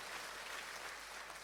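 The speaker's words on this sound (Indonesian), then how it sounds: "Boleh kita kasih tepuk tangan buat Tuhan kita yang besar." A church congregation applauds in steady, dense clapping that fills the whole moment, with no voices on top.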